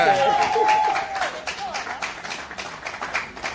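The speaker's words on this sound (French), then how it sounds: "Est-ce qu'on peut applaudir, s'il vous plaît?" Wedding guests at a civil ceremony clap in a short burst of scattered applause that thins out after a moment, with speech overlapping.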